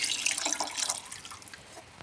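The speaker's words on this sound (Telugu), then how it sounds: "మనం చికెన్ హాఫ్గా కుక్ చేసుకున్నాం కదా, అదే వాటర్ అయితే యాడ్ చేసుకుంటున్నాం ఇందులో" Water pours into a pot of half-cooked pala kodi chicken pulao, a steady splashing stream lasting about two seconds with no talking.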